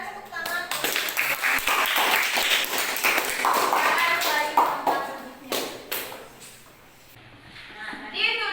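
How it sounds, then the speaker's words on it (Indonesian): Classroom applause, a burst of clapping hands that goes on for several seconds and then thins out to a few scattered claps, with children's voices mixed in. "Berikan tepuk tangan."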